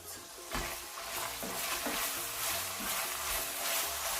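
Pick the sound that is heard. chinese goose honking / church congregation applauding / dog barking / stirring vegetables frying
stirring vegetables frying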